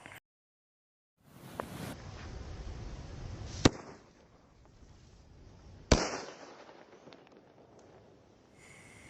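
Two sharp rocket firecracker bangs a couple of seconds apart, each ringing out over a steady outdoor hiss, with a brief crackle early on.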